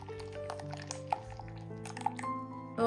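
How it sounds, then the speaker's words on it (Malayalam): Blended tomato paste is pressed through a strainer with a spoon or spatula, and juice falls in a few soft drips and wet squishes over a steady tonal background. "ഒരു സ്പാച്ചിൽ കൊണ്ടോ അല്ലെങ്കിൽ ഒരു സ്പൂൺ വെച്ചോ ഇതുപോലെ ഒന്ന് ആക്കി കൊടുക്കുക അപ്പം അതിൻ്റെ ജ്യൂസ് മുഴുവനും വീണ് കിട്ടും"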